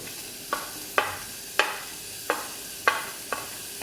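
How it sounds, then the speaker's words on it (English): A spoon stirs turmeric and chili powder into sizzling upma in a pan, six sharp scraping strokes at uneven intervals over a soft, steady frying hiss, close and without speech. "And we'll just give it a stir."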